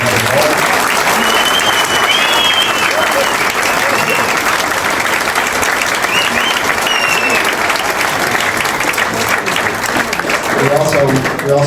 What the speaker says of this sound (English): So a round of applause to the players.